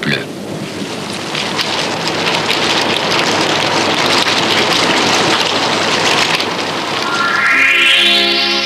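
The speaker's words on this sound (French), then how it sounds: "il pleut" Rain pours steadily onto the dry South African desert, a dense, loud hiss of drops with a low rumbling undertone, swelling slightly toward the end.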